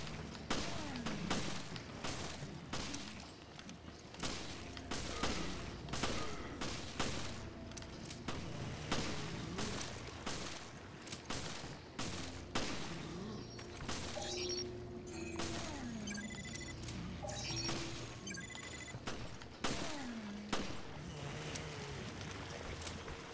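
A powerful gun fires in Resident Evil Revelations on Xbox One: a dense, loud string of sharp shots and booming blasts, fired in rapid bursts with short gaps, over game sound effects.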